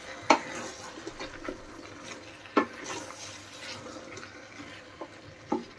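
Pilaf with fresh coriander and mint leaves stirred in a pot: a few sharp spoon scrapes and knocks, spaced seconds apart, over a faint low background.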